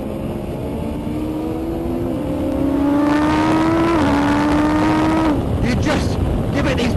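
A Noble M600 or Atom V8 accelerating hard on the Nurburgring, heard from on board as a loud, steady engine note rising in pitch through upshifts, with brief breaks between gears.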